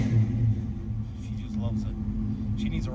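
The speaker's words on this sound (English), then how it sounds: "But it idles really nice." A 1979 Camaro Z28 engine idles with a steady, deep low rumble that holds even throughout, with faint voices in the background.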